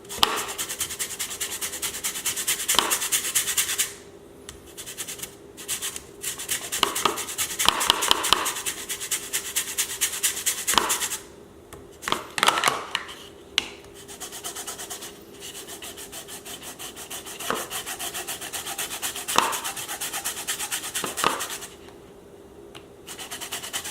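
A whole lemon being zested on a grater, with close, dry rasping strokes that come in quick bursts separated by short pauses, and no talking.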